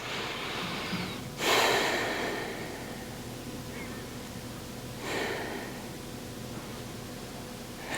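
Two audible breaths during a yoga back bend such as Sphinx or Cobra, a sharp nasal inhale near the start and a softer one midway, close and alone over a faint hiss.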